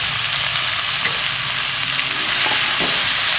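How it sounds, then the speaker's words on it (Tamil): Small onions sautéing in a pan for duck gravy give a loud, continuous hiss and sizzle, with soft scrapes of stirring scattered through and no voices. "இதையும் போட்டு நல்லா வதக்கிக்கலாம்"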